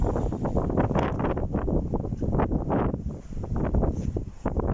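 Strong wind buffets the microphone in loud, gusty rumbling bursts that continue throughout, with no clear voices.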